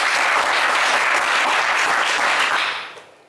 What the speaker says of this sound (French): c'est un sans faute pour Michael et ça s'applaudit bien fort